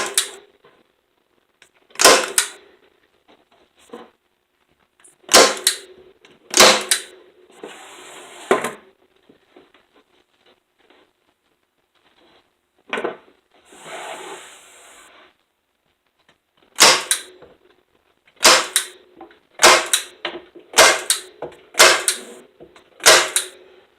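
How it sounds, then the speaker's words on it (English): A staple gun fires repeatedly as fabric is stapled onto the frame of an earring holder. Loud sharp snaps come in irregular clusters separated by quiet gaps, with some softer handling noise in between. "You are just going to staple it in."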